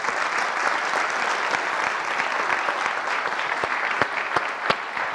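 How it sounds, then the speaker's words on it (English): An audience at the NEAF 2026 astronomy event applauds the speaker David, a steady crowd clapping with several sharp, louder individual claps standing out near the end, no talking over it. "A big round of applause for David."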